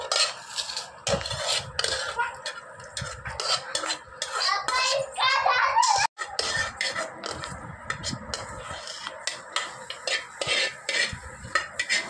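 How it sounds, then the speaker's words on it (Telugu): Cooked prawn curry being mixed into mashed gongura leaves: a metal spoon clinks and scrapes against the pot in quick, repeated strokes, close and fairly loud, with no talking. "కూర ఉడికినటువంటి రొయ్యల కూరని ఈ గోంగూరలో వేసి కలుపుతున్నాను."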